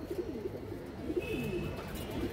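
A young silver-line female pigeon coos softly in a low, rolling pattern of repeated burbling notes, fairly close and steady, with a faint high tone in the background.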